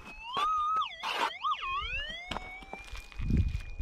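A metal detector's warbling electronic tone swoops up and down over a small flat gold nugget, then settles into a steady high whine, with scraping and rustling noises underneath.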